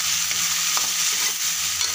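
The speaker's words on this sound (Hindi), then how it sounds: "अब इसमें हम डालेंगे 3 मीडियम साइज के टमाटर" Chopped tomatoes, three medium ones, go into golden-brown tempering oil while a potato and eggplant curry is being made. A steady, close sizzle runs throughout, with faint stirring scrapes and no voices.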